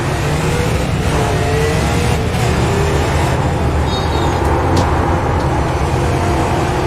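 Stock race cars at North Wilkesboro roar as the field accelerates off the green flag, a dense, loud, continuous engine drone with rising revs throughout and no talk.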